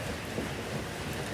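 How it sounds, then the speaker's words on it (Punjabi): Heavy rain pours steadily while thunder rumbles low underneath, forming a dense, continuous wash of noise with no voices. "ਬੱਦਲ ਬਹੁਤ ਗੱਜਣ ਡਿਆ"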